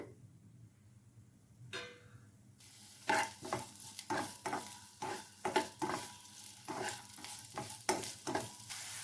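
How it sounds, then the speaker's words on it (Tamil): Chopped onion sautéing in oil in a pan, a close sizzle with a run of quick, rhythmic spatula scrapes and stirs starting a few seconds in, with no voices. "இந்த வெங்காயத்தை நல்லா வணக்கிக்கலாங்க"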